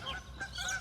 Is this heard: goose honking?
yes